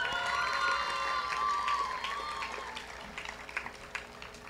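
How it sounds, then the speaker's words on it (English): An audience at a high school graduation ceremony applauds and cheers, loud dense clapping with whoops that gradually thins into scattered claps. "Another round of applause,"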